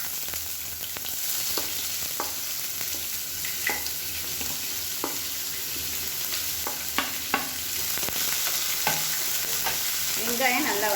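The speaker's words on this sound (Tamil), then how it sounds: "இப்போ இதில் பொடியாக நறுக்குன வெங்காயம் சேர்த்துக்கலாம்." Finely chopped onions fry and are stirred in hot oil with fennel seeds and curry leaves, a steady close sizzle with scraping spoon strokes throughout.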